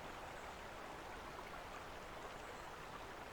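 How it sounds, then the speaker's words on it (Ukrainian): A mountain stream in the Carpathians flows with a soft, even rushing hiss. It is steady and unbroken, faint and alone, with no voices. "Шум води"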